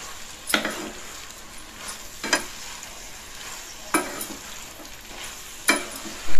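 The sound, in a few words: chopped idli pieces being stir-fried in masala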